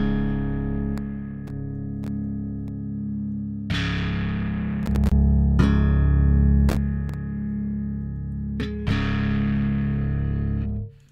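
A bass guitar plays through the Darkglass B7K Ultra distortion plugin by Neural DSP. Sustained, gritty, distorted bass notes ring out with sharp plucked attacks and long decays, loud and close, with no talking.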